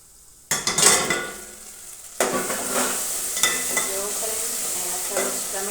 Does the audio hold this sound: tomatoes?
yes